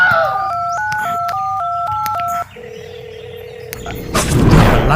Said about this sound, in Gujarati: હા, કેપી મિસ્ત્રીને ફોન કરવા દે.